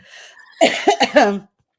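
A short burst of three or four close, harsh coughs in quick succession, loud and up front, followed by silence.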